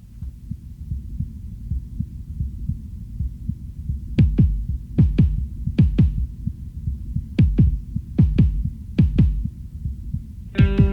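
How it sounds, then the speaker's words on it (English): A recorded human heartbeat opens a song, starting as a low, soft throb under a hum. Then loud, close double thumps arrive in a steady lub-dub rhythm, about seven beats, with no voices. "I recorded my heartbeat. That's what you're going to hear right now"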